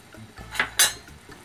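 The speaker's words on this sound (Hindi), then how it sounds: "और इसको इस तरह से चलाते रहेंगे।" A spoon stirs cashew powder into melted sugar in a pan for kaju katli, with two sharp metallic scrapes against the pan close together amid a quiet background.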